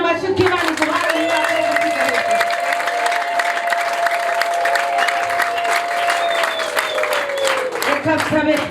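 A church congregation applauds steadily and loudly for several seconds, dense clapping filling the space, with a sustained tone from the sound system running beneath it until the end.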